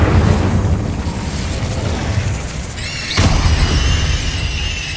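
A fire spell blast in Hogwarts Legacy: a loud roaring whoosh and burst, with a squealing, crackling flare of flame partway through, dense and close throughout.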